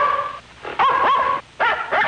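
A small dog barks and yips in short bursts aboard a passenger train car in an old radio mystery drama, the sounds close and loud with brief pauses between.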